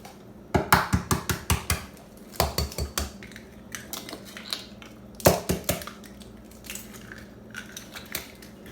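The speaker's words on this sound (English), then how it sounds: "Then you're gonna add the 3 eggs." Three eggs go into a bowl of chocolate cake mix and water for cupcakes, giving close, sharp clinks and taps against the bowl in quick bursts with pauses between, and no talking.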